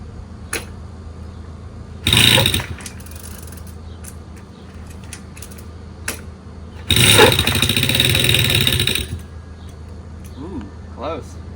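An old Puch moped engine is kicked over twice, each a loud sputtering burst of a few seconds that dies back to quiet, with voices talking in between.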